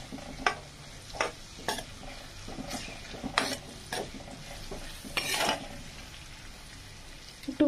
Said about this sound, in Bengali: এবার এটাকে ভালো করে নাড়তে হবে। পেঁয়াজটা বাদামি ব্রাউন হয়ে যাওয়া অবধি এটা নাড়াচাড়া করতে হবে,